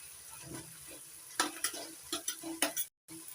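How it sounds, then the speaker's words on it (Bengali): Fried potatoes stirred into a cooked-down frying masala for a tengra fish and snake gourd curry: a low sizzle that builds into a quick run of scraping stirs, then cuts out briefly near the end. "এবার ভেজে নেওয়া আলুগুলো দিয়ে দিচ্ছি।"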